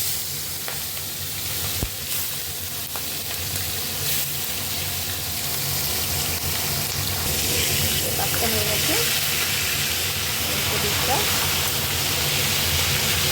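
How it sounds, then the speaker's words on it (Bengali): Marinated crab pieces frying in hot oil make a dense, continuous sizzle and hiss, close and loud, swelling slightly as it goes on. "এবার আমি এক এক করে ভেজে নেব"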